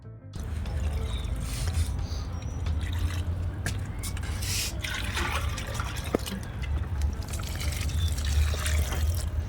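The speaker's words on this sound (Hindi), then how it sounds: "इनमें भी मैंने दोबारा पानी डाल दिया।" Water is poured steadily over eggplant and chili plants in a kitchen garden, a continuous trickling and splashing with a low outdoor rumble underneath, close and fairly loud throughout.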